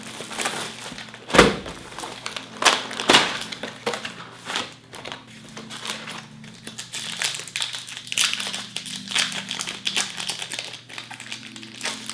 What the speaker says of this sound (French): On va ouvrir ça ensemble et voir quel trésor cette boîte renferme.